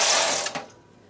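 A knitting machine working mock moss, or honeycomb, stitch gives one brief mechanical carriage pass, a close whirring rattle with a couple of clicks that cuts off and leaves quiet.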